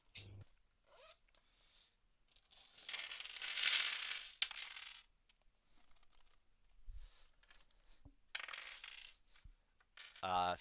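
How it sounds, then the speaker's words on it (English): Dice are taken out and rolled for a tabletop role-playing game's saving throw, making faint clattering and rattling bursts with quiet handling noises between them. "Let me get out dice."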